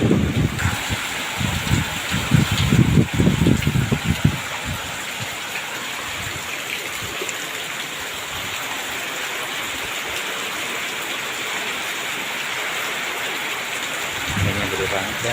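Heavy rain pours down as a dense, continuous hiss, with louder splashing bursts near the start and a steady roar afterward.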